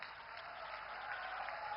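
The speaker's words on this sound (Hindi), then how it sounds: "तालियां जोरदार हो" Applause from the audience at a ceremony where the Prime Minister flags off new rail services in Sindri, Jharkhand: a dense, steady wash of clapping, fairly faint and distant, with no gaps.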